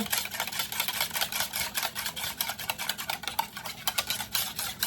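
A metal wire whisk stirs protein pudding in a bowl, giving a steady, dense run of fast scraping and clinking strokes that keeps going without a break and stays fairly close.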